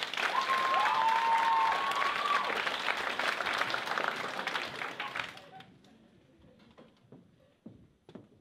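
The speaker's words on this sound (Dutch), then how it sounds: "geef ze een groot applaus" Audience at a glamour night show gives a big round of applause with a whistle on top, loud and full for about five seconds before fading to scattered claps.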